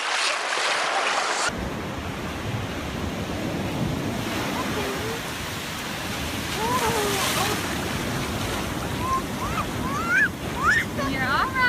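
Ocean waves washing onto a shore, a steady rushing surf with wind noise against the microphone, loud and continuous throughout, with faint high excited voices and shrieks near the end.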